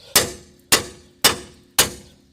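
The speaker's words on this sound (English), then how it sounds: "So you know what? We'll just take this small hammer, see if we can knock it all the way out" A small hammer strikes four times at an even pace, knocking out a lower ball joint on a Ford Explorer; each sharp metallic blow rings briefly at close range.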